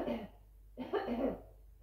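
A man coughs in two rough bursts close by in a communal entrance area, each burst throaty and brief, separated by a short quiet gap.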